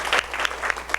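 Brief burst of audience applause at a book concert lecture in a hall, dense clapping that swells and ebbs over about a second with no voices.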